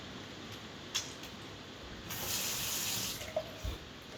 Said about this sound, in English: I've got a sink with flowing water now.